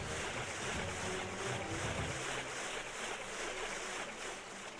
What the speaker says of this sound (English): the swimming noises are just the worst